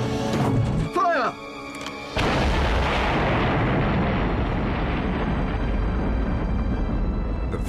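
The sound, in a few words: V-2 rocket launch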